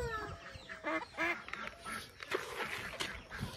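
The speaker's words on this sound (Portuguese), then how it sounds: "Os outros patos." Farm ducks quack in a quick, uneven run of calls close by, mixed with other poultry on a small farm, the squawks rising and falling over a few seconds.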